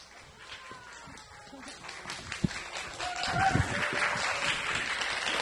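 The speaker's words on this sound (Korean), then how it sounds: "뜨거운 박수 부탁드리겠습니다." Scattered audience clapping builds gradually as the Osan City Ballet is called back onstage after a ballet performance, starting thin and growing denser and louder toward the end, with some shuffling and faint voices mixed in.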